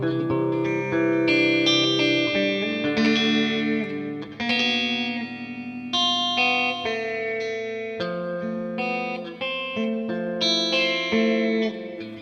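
Clean 1980s-style electric guitar through AmpliTube 5 amp simulation with chorus and effects, playing steady bright chords and arpeggios continuously with a shimmering, slightly echoing sustain and no talking.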